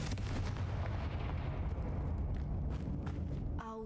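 Confringo spell blast in a Harry Potter video game, a sustained booming rumble with crackling bursts, steady and fairly faint, cut off abruptly by a brief tonal chime at the end.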